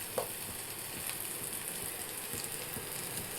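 Vada batter frying in hot oil for curd vadas, a steady dense sizzle and crackle running throughout at moderate level with no voices.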